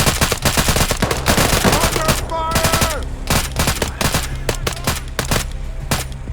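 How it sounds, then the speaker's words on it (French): Dense, loud bursts of rifle and machine-gun fire from the military game Arma III crack in rapid succession for the whole stretch. A faint tonal voice or radio sound briefly shows midway. "il y avait encore un tir à la droite"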